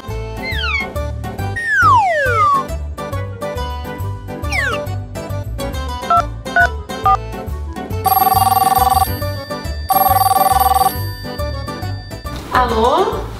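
A telephone rings in loud repeated bursts in a hotel room, mixed with cat-like meowing sounds and talk.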